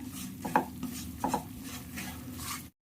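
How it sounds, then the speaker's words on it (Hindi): Semolina being stirred and dry-roasted in a pan over low heat: soft scraping and a few clinks of a spoon against the pan, quiet and close, ending abruptly. "इसे धीमी आंच पर हम चलाते हुए ऐसे ही भून लेंगे"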